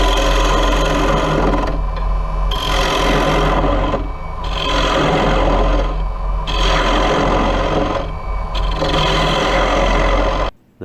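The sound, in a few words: bowl gouge hollowing a mahogany bowl on a lathe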